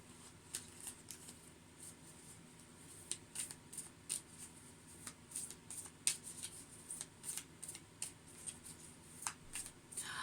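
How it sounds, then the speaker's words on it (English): Tarot cards being reshuffled by hand, giving soft repeated riffling and snapping flicks at an uneven pace, close and fairly quiet, with no talking. "So I'm going to reshuffle."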